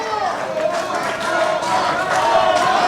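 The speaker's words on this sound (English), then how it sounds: "you hear the crowd now trying to get Omar Slam Duncan back into this match" Wrestling crowd at an EWF show in the Riverside Elks Lodge, cheering and clapping steadily for Omar Slam Duncan, a continuous roar of voices that swells slightly and holds.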